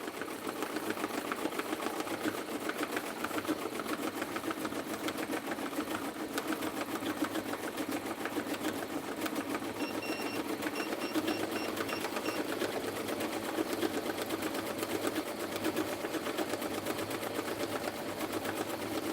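A Racoma cap embroidery machine stitches caps at 600 stitches per minute, giving off a steady, fast, continuous mechanical whir and clatter that runs unbroken and fairly loud throughout.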